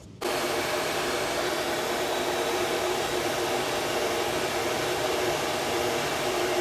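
A heat gun or hair-dryer-style blower roars steadily as hot air is played over a plastic push bumper, a constant loud airy whoosh that starts abruptly and holds without a break.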